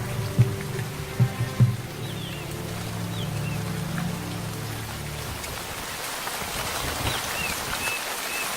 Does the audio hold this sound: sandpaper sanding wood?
no